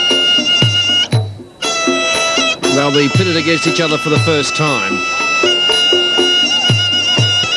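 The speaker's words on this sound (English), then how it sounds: "that sound you're hearing, of course, is the sound of the Ra Muay" Traditional Ra Muay music, with reedy pipe melody and rhythmic percussion, accompanies the Muay Thai ritual fighting dance before a bout, heard steadily under a commentator talking.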